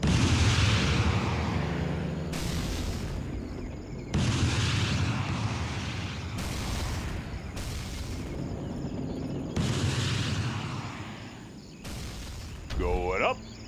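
Booming launch blasts from a USA cruise missile superweapon in the real-time strategy game Command & Conquer Generals, Shockwave mod; several loud, rumbling bursts repeat at intervals, mixed with game voice lines.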